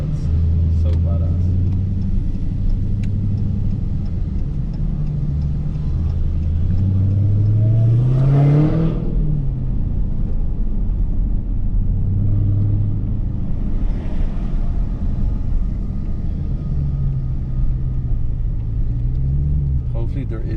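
A Dodge Hellcat cruising with the window down, a steady low engine and road rumble throughout, with a brief rising rev swell midway and faint talk over the drone.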